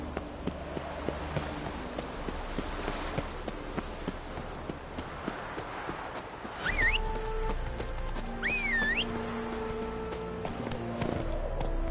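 Horse hooves clip-clopping in the video game Witcher 3, a steady, fairly close patter of footfalls running throughout, with musical tones and electronic swoops layered over it in the second half.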